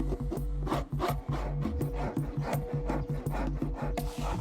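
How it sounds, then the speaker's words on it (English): A cut tanpura gourd shell is scraped out by hand, giving a close, steady run of rough rasping strokes in quick irregular rhythm under a low background hum. "He cuts the shell about a quarter of the way in and scrapes out any debris left over."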